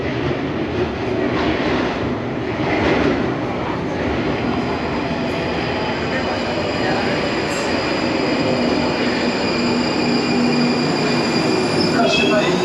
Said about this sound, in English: A train to Mill Hill East coming in.